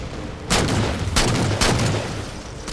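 Gunfire in Halo 4 Spartan Ops combat, dense, loud bursts of shooting with sharp blasts at regular intervals over a continuous roar of battle noise.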